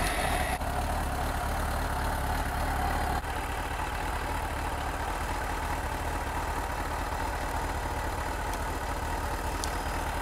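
A motorcycle engine runs steadily during a charging system and alternator stator test, a constant mid-level drone with a slight shift early on and no sharp revving.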